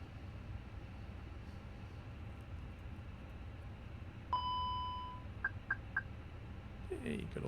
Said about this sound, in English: Hey, good old smoke detector.